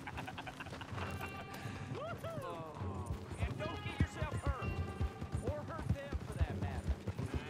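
Horse hooves clip-clop in the Red Dead Redemption 2 game epilogue, a running rhythm of thuds under game dialogue and shouting, with other action noise.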